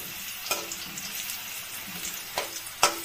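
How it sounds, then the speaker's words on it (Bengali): Pumpkin pieces fry in oil in a home kitchen pan, a steady sizzle with a few sharp clatters of stirring and turning; no talking. "কুমড়োটাও ভাজা হয়ে গেছে,"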